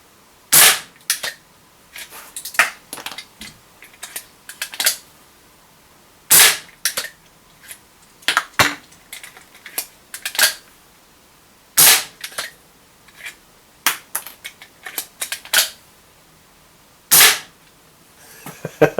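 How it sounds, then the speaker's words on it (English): Mad Max Contender break-top gas pistol firing four shells in rapid succession, each crisp sharp crack standing alone, separated by quieter clicks and clatter as the shells are ejected and reloaded. "I'm literally just going to see how fast I can fire 4 shells"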